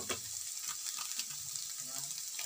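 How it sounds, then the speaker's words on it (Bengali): Spice masala fries in a pan for a patol paneer curry, a close, steady sizzle with soft stirring scrapes and occasional pops, no talking. "আমার মশলাটা প্রায় ভাজা ভাজা হয়ে গেছে"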